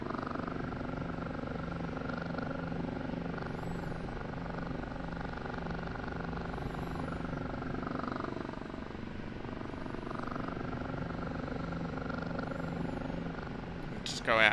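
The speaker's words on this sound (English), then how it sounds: "we're just going to slowly let the helicopter down" An OH-58D Kiowa Warrior helicopter in the DCS flight simulator, descending slowly, its rotor and turbine making a steady, even drone that carries through with little change until a brief burst of sound at the very end.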